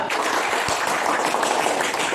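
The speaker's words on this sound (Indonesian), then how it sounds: "Oke, tepuk tangan untuk kelompok 2." Classroom of primary school pupils clapping for a group that has just finished presenting, a steady dense patter of many small hands lasting the whole short stretch, fairly close, with faint voices mixed in.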